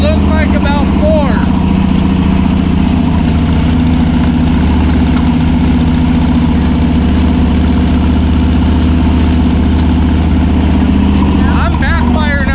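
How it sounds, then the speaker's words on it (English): A 1955 Chevrolet Bel Air engine runs steadily and loudly at close range, its rough idle broken by irregular pops backfiring through the intake, with no talk over it. "I'm backfiring out the intake pretty good too."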